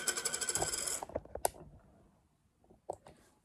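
A relay on an e-bike traction control system clicks as it cuts motor power during rear wheel slip, giving sharp, close mechanical ticks in a quick irregular cluster after a burst of rattling, then a couple of isolated clicks.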